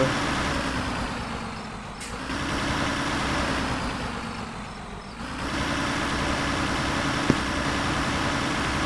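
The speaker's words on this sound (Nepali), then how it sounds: "इन्जिनको साउन्ड यस्तो" A truck engine idles in neutral in Universal Truck Simulator, a steady low rumbling drone that dips briefly twice in level before holding even, with no talking.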